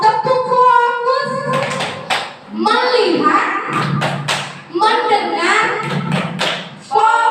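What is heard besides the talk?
class doing a rhythmic focus clap (tepuk fokus)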